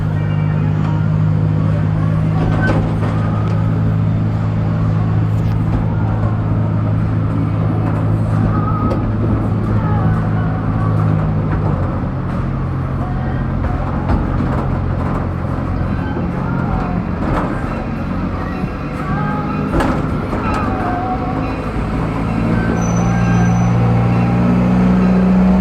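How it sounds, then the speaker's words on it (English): A Zephyr amusement park train ride at Dorney Park rolls steadily with a constant low rumble and clatter, close and loud throughout, with faint background voices. "Zephyr is now approaching the station."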